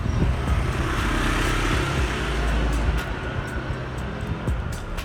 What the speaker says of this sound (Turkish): Bir saniye motor geçsin